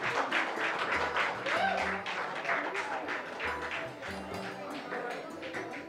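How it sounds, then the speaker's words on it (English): Audience applause at a community innovation event in JP Nagar, a steady mid-level wash of clapping lasting throughout, with some voices mixed in underneath. "give a huge round of applause to your center team"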